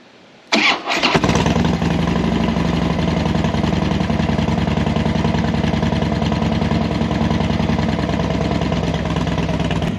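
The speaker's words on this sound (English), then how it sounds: "we're going to start it up now and see about that oil light" A Harley Dyna motorcycle engine cranks briefly, then catches and settles into a loud, steady, rapid idle that continues close up for the rest of the clip, with no talking.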